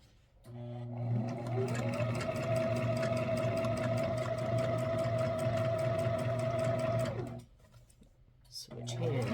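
A sewing machine stitches clothing with a loud, steady whirring hum for several seconds, a few stitches run and reversed to lock, then it stops abruptly; brief handling noise and talk follow.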